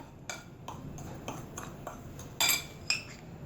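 Semolina and gram flour being mixed for khaman dhokla, a spoon tapping and scraping against a bowl in a series of light, close clinks, with two sharper metallic knocks near the end and no talking.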